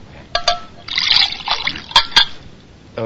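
Water poured into a glass in a radio drama, a short trickling pour with a few splashy bursts, close and clear, without talk.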